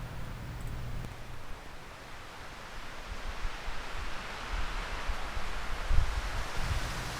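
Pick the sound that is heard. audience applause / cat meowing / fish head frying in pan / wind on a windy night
wind on a windy night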